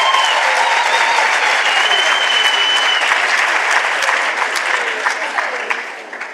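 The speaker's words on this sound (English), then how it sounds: "Can we give another round of applause to the choir?" A large audience at a university address applauds the choir with loud, sustained clapping that holds steady for several seconds and then begins to thin out and fade toward the end.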